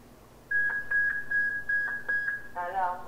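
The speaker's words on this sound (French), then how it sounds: "je peux activer une alarme et l'entendre aussi dans l'appareil" A Motorola radio's alarm sounds as a sustained high electronic tone steadily for about two seconds, then shifts to a rapid warbling beep pattern; faint speech-like sounds underneath.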